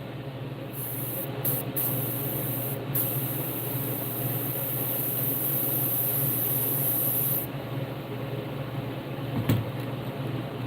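Airbrush spraying paint onto the gill plate of a golden shiner fishing lure, a loud close hiss sounding in several bursts separated by short pauses, then a quieter stretch with a brief knock near the end.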